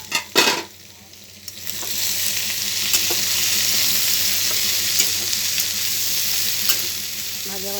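Pumpkin and potato pieces fry in a pan with a loud, steady sizzle and crackle. A few sharp clatters of utensils come first, then the frying settles into an even hiss close by.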